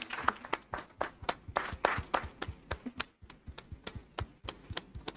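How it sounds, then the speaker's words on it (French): An audience applauding at a school event, with sharp, uneven hand claps and taps in quick bursts over a few seconds, close and moderately loud, with a brief lull near the middle. "hip hip hip, hurrah, on les applaudit"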